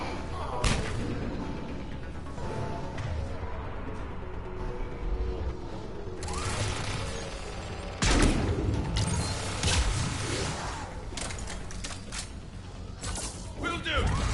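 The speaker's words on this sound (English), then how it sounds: "Just let the turret do all the work" Automated turret firing during a Mass Effect 3 firefight, bursts of gunfire and heavy thuds repeating through the scene over music and game noise, with a voice speaking briefly.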